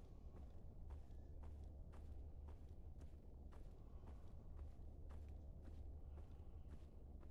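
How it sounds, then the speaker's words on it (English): Faint footsteps pace steadily in a Roblox horror video game, a regular series of soft thuds about twice a second over a low murky background hum, with no voices. "I just hear the footsteps"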